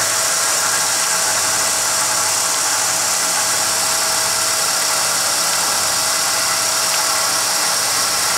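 A restored Mead band sander runs at constant speed, a smooth, quiet, steady whir with a high hiss and no knocking, unchanging and with no talking.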